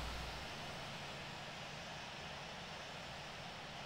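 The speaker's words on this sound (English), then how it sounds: "Alright, it sounds like we got one good engine. Engine number 1's going to be turning on." Airliner jet engine spooling up in the flight simulator Infinite Flight, a steady broadband roar holding at an even level throughout with no talk over it.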